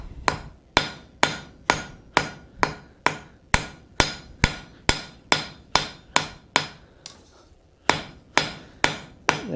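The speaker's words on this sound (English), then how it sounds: "Slightly overlapping my hammer blows onto the previous forging." Sharp metallic hammer strikes on steel being forged into a pine tree hook ring out in a steady rapid rhythm, about two per second, with a brief pause before the blows resume.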